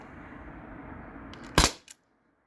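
An HDP50 Gen 2 launcher fires a single sharp, loud snap that cuts through a low background hum, with a faint mechanical click just after it and silence following.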